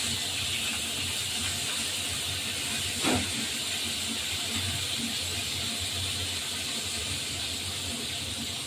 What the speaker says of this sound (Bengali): দিয়ে এই আলু পটলগুলো খুব ভালো ভাজা করতে হবে।